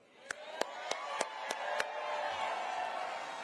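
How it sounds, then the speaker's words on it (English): At Raphael Warnock's campaign headquarters on Georgia Senate runoff election night, six evenly spaced sharp claps ring out, then a broad wash of crowd applause swells and holds steady. "let's give applause to all the people that put in the hard work"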